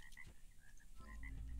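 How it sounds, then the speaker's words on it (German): Several toads croak in short repeated calls in the video game ARK: Survival Evolved, over a low rumbling background, fairly faint and somewhat distant. "Ich höre Kröten."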